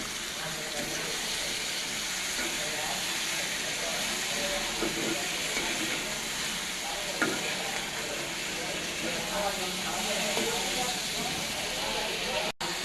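Potatoes and okra fry in a pan with a continuous loud sizzle that stays steady throughout, close by, ending with a brief knock.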